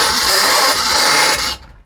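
An old A-Team van engine runs with an odd new noise, a harsh broadband whirring rasp that holds steady and then cuts off abruptly near the end.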